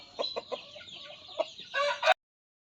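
Free-range native chickens cluck softly in short, scattered calls, ending with a louder burst of excited clucking before cutting off abruptly.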